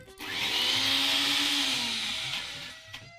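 A blender grinds Kashmiri chili with a few spoons of water into paste for ghee roast paneer, its motor whirring loud and close for about two seconds before spinning down.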